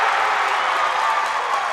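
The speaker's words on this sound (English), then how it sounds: "that gets the home crowd fired up behind us for the Redbirds" Home crowd at an Illinois high school boys basketball supersectional cheering for the Metamora Redbirds after a three-pointer, a loud, steady roar of voices with applause filling the gym.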